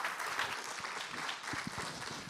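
Brief audience applause at a conference on social and environmental development, a dense, fairly faint wash of clapping from a seated crowd.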